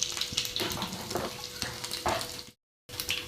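Garlic and cumin seeds crackle and sizzle in hot oil, a steady close frying hiss with scattered pops, cut off by a brief silence before the sizzle resumes.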